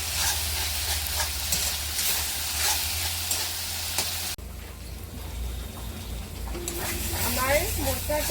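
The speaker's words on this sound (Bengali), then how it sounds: "এখন আমি এগুলোকে ভালো করে ভেজে শুকিয়ে দেবো" Chopped banana flower (mocha) frying and being stirred in a pan while being dried out for a mashed banana flower bata, giving a steady broadband sizzle with stirring scrapes. Partway through it drops to a quieter sizzle, and a voice talks over the latter part.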